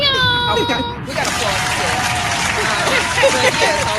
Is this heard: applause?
yes